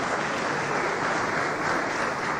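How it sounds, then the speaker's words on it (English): A seated audience claps steadily at the launch of Ghana's Memory of the World documentary heritage register, a dense, even wash of applause throughout with no talking over it. "don't be shy, you have to clap"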